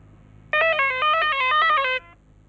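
Electric guitar picking a short, dark phrase from the blue note scale on the third string, a quick run of distinct notes lasting about a second and a half, clean and close, with no talking.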